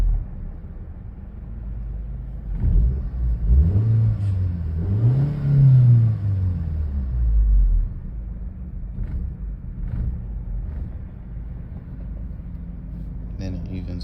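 Audi A4 engine with a rough idle and stalling problem revs up unevenly when the throttle is pressed, rising and falling in two swells before settling back to a steady low idle, heard close and loud with no talking.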